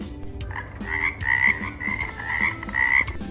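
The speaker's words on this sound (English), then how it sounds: "frog." A frog croaks in a steady series of about five loud, close, raspy calls with short pauses between them, and no voices are heard.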